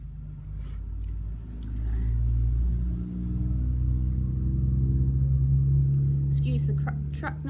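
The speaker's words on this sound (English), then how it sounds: "Excuse the truck noises." Heavy trucks pass a subdivision construction site in hot weather, a loud continuous low engine rumble swelling and easing over several seconds, with a few faint higher clatters near the end.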